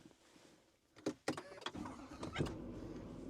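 A 2025 GMC Sierra 3500 HD Denali Ultimate dually pickup cranks and its engine starts with a few sharp mechanical clunks and whirs, followed by a low steady idle, heard close and fairly quiet.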